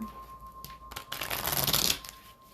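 A new deck of oracle cards is shuffled close by in one riffling burst that rises to a crisp flutter and then stops, quiet and unaccompanied by speech.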